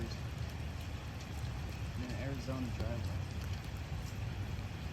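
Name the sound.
rain falling in an Arizona driveway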